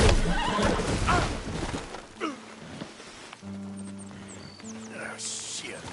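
A horse in a video game lets out a loud, drawn-out whinny with a descending tonal cry, followed by a harsher shaking neigh, over busy game noise and a voice.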